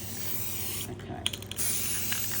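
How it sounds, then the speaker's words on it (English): Rust-Oleum spray paint hissing from an aerosol can in a steady, close spray that runs almost unbroken, with a short gap and a few clicks midway. "all I'm going to do now is spray it with the"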